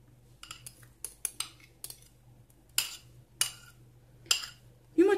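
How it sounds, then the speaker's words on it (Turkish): A fork clicks and taps against a bowl while egg yolk is beaten in for a fluffy omelette, a sparse series of sharp metallic clinks, close and fairly quiet, with pauses between strokes. "Şimdi yumurtanın sarısını da çatalla şöyle hemen çırpıp içerisine karıştıracağım."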